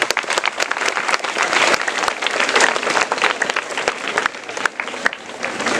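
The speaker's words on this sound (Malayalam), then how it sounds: "ഒന്ന് കൈയടിക്കാവട്ടോ." Loud, dense applause from a school audience at a Children's Day rally and arts programme fills the whole span, steady clapping from many hands with a few sharper individual claps and faint crowd murmur.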